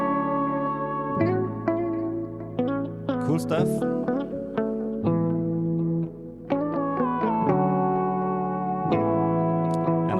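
Electric guitar run through doubled delay and reverb effects, with added harmony lines panned to the left, in a lofi track over drums; sustained layered notes ring out steadily and loudly, with a brief voice near the end.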